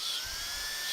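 Drill bit pulling through a hole in a FireFly hard case, a steady high-pitched whine held close and even for under a second.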